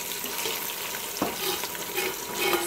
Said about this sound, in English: So she had the sauce cooking for 10 to 12 minutes